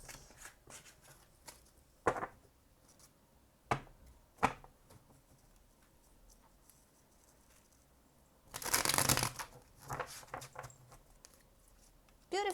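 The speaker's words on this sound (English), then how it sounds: "Now I'm actually a pretty good shuffling these cards." Tarot cards shuffled by hand with a few scattered soft taps and riffles, then one longer, crisp flurry of shuffling partway through, close and fairly quiet.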